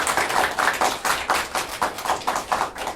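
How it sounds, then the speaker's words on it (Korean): Rhythmic clapping from a political rally audience, roughly a dozen evenly spaced claps in a steady beat, fairly close and alone without talk. "박수 보내주십시오."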